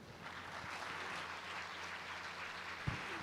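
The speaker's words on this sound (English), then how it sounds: "let us come together in a resounding round of applause to celebrate the remarkable achievement of our graduates" Audience applause at a graduation ceremony, a soft, steady patter of many hands clapping heard from a distance, with a single sharper knock near the end.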